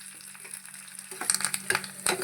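Dried red chillies, curry leaves and asafoetida crackle in hot oil with garlic, a sharp close sizzle that grows busier and spattery partway through, without talk.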